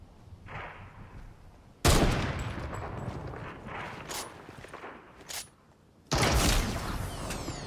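Gunfire in the video game Fortnite, with sharp loud bursts of automatic shots and single cracks mixed with footsteps and weapon handling, coming in separate clusters between quieter gaps.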